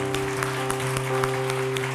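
A worship congregation clapping together, rhythmic and fairly steady hand claps over a sustained musical drone, moderately loud and reverberant in the hall.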